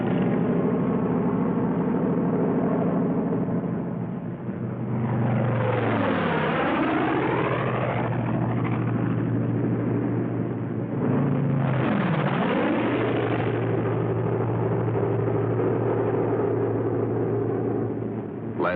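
Several World War II P-47 Thunderbolt fighter planes on a bombing run roar steadily and loudly, with two distinct passes where the engine drone sweeps and dips as each plane dives past at close range.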